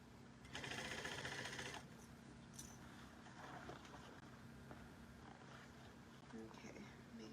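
A sewing machine backstitching while sewing a bucket bag's strap connector, a short loud burst of rapid motor whir and needle clatter under a steady hum, followed by quieter handling sounds.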